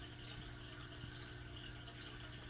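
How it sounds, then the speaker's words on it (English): Steady rushing of water from a hang-on-back aquarium filter running in a tank with a sand crab, an even, continuous watery hiss without breaks and no voices. "the hang on back filter provides a nice current of water rushing by the crab"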